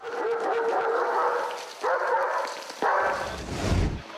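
A police dog barks close and loud in a quick series of sharp yelps and barks, with rumbling handling noise and a low thump at the end.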